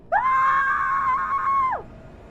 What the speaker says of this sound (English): He heard his wife and daughters screaming out in pain.